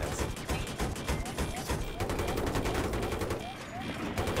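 Rapid automatic gunfire from a Battlefield 3 multiplayer Conquest match on Gulf of Oman, dense repeated shots over battle noise with a voice talking underneath.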